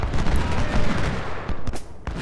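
Massed Civil War musket and artillery fire at Gettysburg in Ultimate General: Civil War, loud overlapping volleys crackling densely with sharp reports stacked on top of one another for the whole short stretch.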